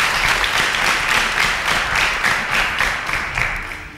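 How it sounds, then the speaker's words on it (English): A crowd applauds steadily, many hands clapping together in a dense, sustained burst that tapers slightly toward the end. "A round of applause for our panelists"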